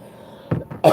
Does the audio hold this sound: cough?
yes